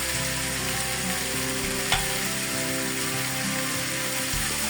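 Noodles with vegetables and chopped tomato sizzle steadily in a pan, close and loud, with a spatula scraping and stirring through the frying hiss.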